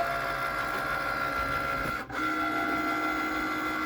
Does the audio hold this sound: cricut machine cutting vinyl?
yes